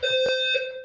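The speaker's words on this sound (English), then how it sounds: "That would be a hypersensitive fire alarm if it is." A fire alarm sounds a loud, piercing electronic tone that pulses briefly, filling the short moment with no speech over it.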